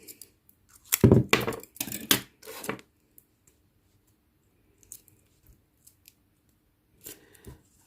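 Scissors snip crochet yarn for an amigurumi piece, a cluster of close, crisp cuts early on, then faint small handling clicks and a last snip near the end.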